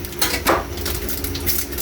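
Cubes of pork dropped into a pot of vinegar and water for pork paksiw, giving a couple of close, clattering thuds against the pot over a low kitchen hum.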